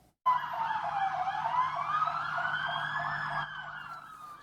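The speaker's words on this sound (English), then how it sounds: "Sirens were going and there was probably about 10, 15 vehicles, fire trucks" Emergency vehicle sirens wail continuously during a hurricane evacuation in Mexico, a loud, close, rising and falling tone that holds for several seconds and then drops slightly in level.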